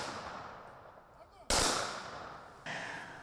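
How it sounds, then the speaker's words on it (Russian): Celebratory fireworks go off at an outdoor memorial ceremony in Dagestan: two sharp bursts a second apart, each decaying into a crackling rumble over faint background noise. "Завершил церемонию праздничный салют."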